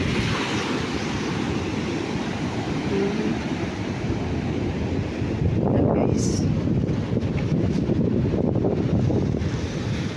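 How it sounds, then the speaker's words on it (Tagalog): Very high ocean waves surge and crash continuously close by, a loud, steady roar of surf mixed with heavy wind buffeting the microphone, swelling stronger toward the end. "Napakataas po ng alon."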